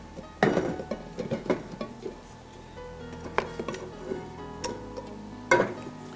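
A metal cooking pot is set down in a kitchen, giving several sharp, close clanks and knocks spaced a second or two apart over a low background hum, with no talking.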